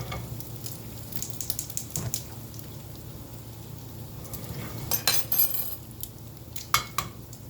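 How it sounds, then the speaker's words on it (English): Bacon strips sizzle quietly in cast iron and nonstick skillets, a soft, constant crackle and spatter with a few sharper pops and faint utensil clinks near the end. "So now the bacon is still sizzling, it's still cooking."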